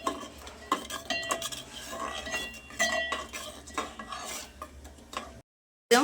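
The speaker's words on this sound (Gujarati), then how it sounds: "મિક્સ કરી લઈશું।" A spoon scrapes and clinks against a pot while sugar is mixed into creamy sweet potato kheer, in irregular close strokes with metallic ticks, ending in a short silence and then one last scrape.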